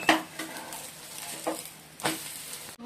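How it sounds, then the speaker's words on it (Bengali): An egg fries in a pan with a steady sizzle, broken by a few clinks and scrapes of a utensil stirring against the pan at close range. "এই যে বন্ধুরা ডিমটা ভাজছি"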